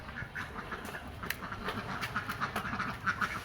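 Ducks quack in quick, repeated bursts at close range, several birds overlapping over a low background murmur.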